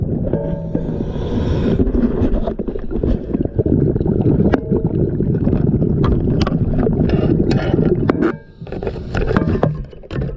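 A Chug-type boat running across water, loud steady motor chug mixed with splashing and gusty wind buffeting close to the microphone, with a brief dropout near the end.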